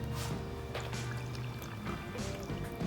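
Warm snow cone syrup pours steadily through a funnel at close range, a soft low gurgle with faint handling clicks, no talking.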